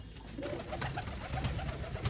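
One or two pigeons on a rooftop coo softly in low repeated calls amid faint background noise, no one speaking.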